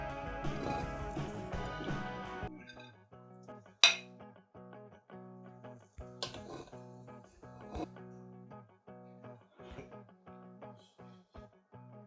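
Serving spoon clinks against a dish while chicken biryani rice is dished out, a few sharp metallic taps scattered over quiet background music.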